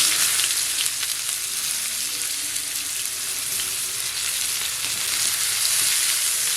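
Chopped onion frying in leftover fish-frying oil with cumin, cooked outdoors in a village kitchen; a steady, close, loud sizzle runs throughout with faint stirring scrapes and no talk.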